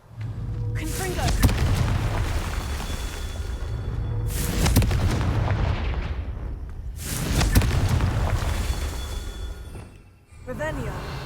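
Confringo fire-blast spells bursting in Hogwarts Legacy: three long, roaring blasts that swell and fade at an even pace over a low, steady rumble, with a short burst at the end.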